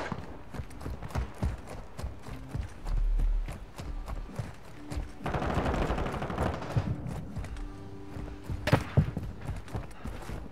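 Rapid gunfire in a Call of Duty Modern Warfare DMZ firefight, dense bursts and single shots crackling throughout at close range, with heavier booms and a sharp loud crack near the end.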